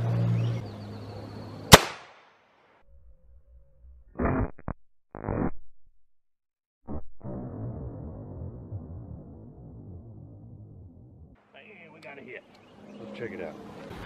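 A 17 HMR rifle shot at an outdoor range, a single sharp loud crack early on, followed by quieter clicks, handling noises and low rumbling background.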